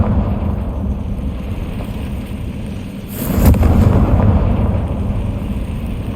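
A Confringo blasting spell explodes in Hogwarts Legacy, a sudden burst midway through followed by a deep, rumbling roar over a steady low ambient hum.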